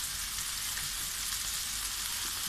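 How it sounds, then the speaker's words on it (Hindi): Achari masala keema fries in oil with a constant, dense, hissing sizzle that stays even and moderately loud throughout, with no voices and no clear stirring knocks. "अब इसकी भुनाई करें अच्छी तरह, इसका तेल बाहर आने लगे अच्छी तरह।"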